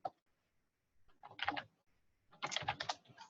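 Bursts of computer keyboard typing in quick clattering runs, close and fairly quiet, separated by short pauses with no voices.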